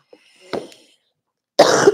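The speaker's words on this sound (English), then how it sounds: "If I was making a video, I could edit out my coughs" A person coughs twice, short and close in a quiet room, then gives a louder, harsher burst of coughing near the end.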